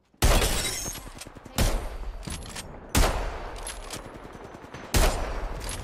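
Video game gunfire erupts in four sharp, loud bursts of rapid shots, each trailing off into a rattling echo before the next volley begins.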